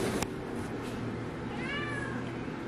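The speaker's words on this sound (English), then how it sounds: "Oh, the other cat's here." A cat meows once, a short rising-and-falling cry heard over steady indoor background noise, moderately close and not very loud.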